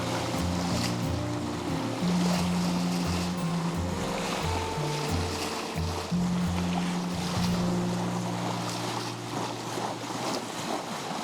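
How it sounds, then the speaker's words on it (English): A sailing boat motor sailing at sea near the Summer Isles off Scotland's west coast, with a steady low engine hum under rushing waves and wind noise, continuous and fairly close. "We're motor sailing."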